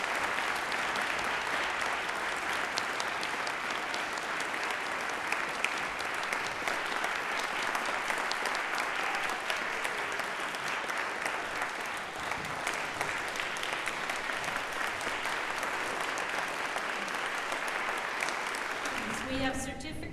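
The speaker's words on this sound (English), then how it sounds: "And one more round of applause for a tremendous" Sustained audience applause fills the hall after a student performance at the Opus 23 showcase evening, a steady dense wash of many hands clapping for about twenty seconds before tapering off at the very end.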